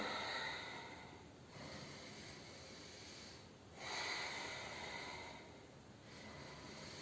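Slow, deep breaths held through a yoga bridge pose opening the chest, with soft airy inhales and exhales swelling and fading in a steady rhythm close to the microphone, alone without talk.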